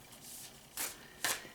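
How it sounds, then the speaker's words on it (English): A new, large Druid Craft tarot deck being shuffled by hand, soft rustling followed by two sharp riffling bursts of cards close to the microphone, with no voices. "I'm going to shuffle a little extra too, because I haven't shuffled it much yet."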